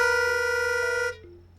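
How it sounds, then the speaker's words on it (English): Two reedy pitch-pipe tones, one a C, sound together, slightly out of tune and clashing, held steadily before cutting off abruptly. "if I play a C on my pitch pipe, Kathy hears the C in one ear"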